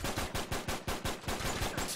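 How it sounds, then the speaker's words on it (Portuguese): Rapid automatic gunfire rattles in fast, evenly spaced bursts, loud and close, with no voices, in the video game Uncharted 3 co-op mode. "Agora eu tô conseguindo acertar uns bons tiros nele aqui"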